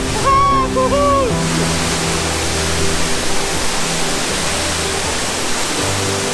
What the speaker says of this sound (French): Je suis au plus près des chutes!